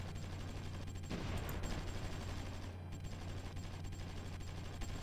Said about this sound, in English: now we're shooting